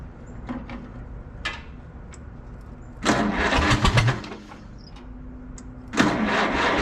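A restored Farmall C tractor engine cranks and catches in two loud, close bursts of rough mechanical chugging, separated by quieter gaps.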